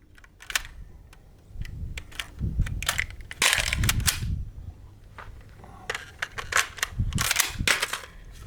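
A rifle fires a string of five rounds, each a sharp, sudden crack spaced unevenly over several seconds, with quieter clicks and handling noises between shots.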